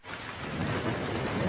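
Heavy rain pours steadily with a low rumble of thunder beneath it in a cartoon storm scene, a dense continuous wash of sound with no voices.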